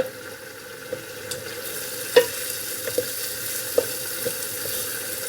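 Kofta pulao mixture with garam masala frying in a pot, a steady low sizzle with scattered clicks and scrapes of a spoon stirring, close and alone with no talking.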